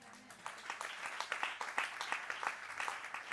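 A church congregation at a morning service applauding, a moderate wash of many hands clapping in uneven rhythm, somewhat distant and steady throughout.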